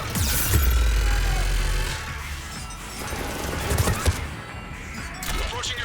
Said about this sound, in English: Just following the gunfire